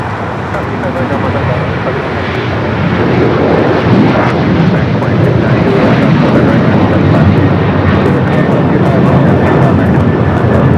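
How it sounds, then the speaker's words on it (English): EVA Air Boeing 777-300ER departing LAX for Taipei, a loud continuous engine roar that builds slightly and holds, with people talking over it. "So south side action for Eva Air as it heads back to Taipei in this 777-300ER."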